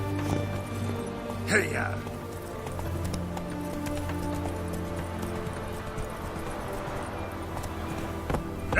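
Roach, the horse in The Witcher 3, gallops with steady rhythmic hoofbeats under ambient game music, while someone shouts a brief rider's call to urge it on.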